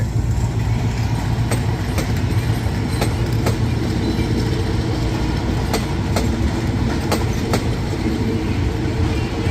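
A train to Phitsanulok with one sleeper car attached pulls out of Bang Sue station in Bangkok, producing a steady loud rumble with sharp rhythmic clicks of wheels passing over rail joints.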